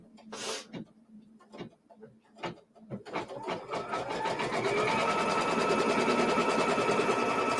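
A sewing machine stitches quilt fabric for a St George's Cross quilt block. A few soft taps and handling noises come first, then the motor's steady, close whirring rises and runs continuously to the end.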